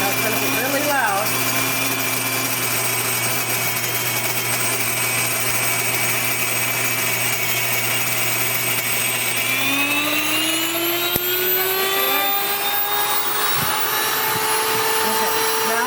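A WonderMill electric flour mill grinds rye into flour with a loud, continuous high-pitched whine and roar that holds steady, with its pitch rising slightly partway through.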